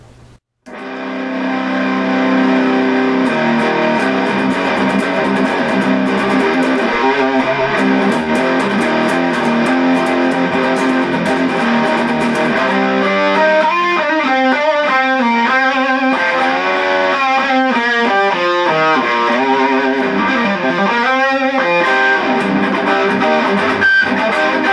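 An electric guitar runs through a distortion pedal, holding loud, thick sustained chords alone. About halfway in, the notes start to warble and bend in wavering phrases before ringing out.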